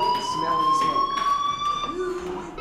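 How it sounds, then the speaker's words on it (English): A fire alarm rings in the video game Life is Strange, a loud, sustained electronic tone with harmonic overtones holding steady through the clip, and a brief voice heard near the end. "Hey, do you hear that fire alarm? That means you should be outside."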